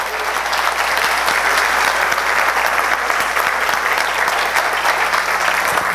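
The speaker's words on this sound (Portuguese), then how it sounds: "Peço que vocês dêem uma salva de palmas a eles." A church congregation gives a round of applause to a group of dancers standing before them, steady, loud and continuous clapping lasting the whole six seconds with a low hum beneath.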